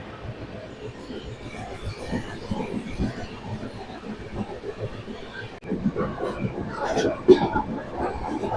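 A train passes through a railway platform on the Ala Hazrat Express route from Bhuj to Ahmedabad, a continuous rumbling roll of wagons and wheels that swells louder partway through, with a voice speaking over it.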